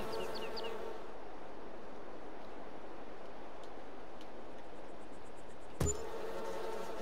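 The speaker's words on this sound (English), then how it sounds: "Put some bees over there." Bees from placed hives in Farming Simulator 22 buzz in a steady, dense drone throughout, with faint background ambience and a short sharp click near the end.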